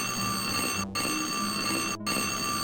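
Telephone ringing in the video game Dark Seed II, a steady electronic ring sounding continuously with two brief gaps between rings, fairly loud and clear with no talk over it.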